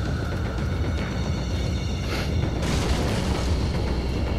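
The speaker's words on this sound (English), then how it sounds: "Flash grenade, not my favorite grenades," Flash grenade going off in the video game Resident Evil 4: a steady loud blast-like roar with a sharp brightening burst partway through, sustained noisy rumble throughout, no talk.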